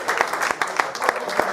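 Audience applause at a football club's player of the year awards night, a steady wash of clapping from a crowd in a hall with sharper individual claps popping through.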